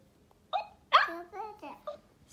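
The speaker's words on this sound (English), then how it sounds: "Oh, he got hiccups." A toddler boy hiccups a few times in quick succession, close and fairly quiet, with small vocal sounds between the hiccups in an otherwise quiet room.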